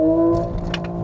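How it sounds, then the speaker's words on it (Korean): A Genesis GV60 Performance electric car accelerates at full throttle with its virtual gear sound, giving a brief loud synthetic engine-like tone that rises and then shifts, heard from inside the cabin. "가속 페달 끝까지 밟아보겠습니다."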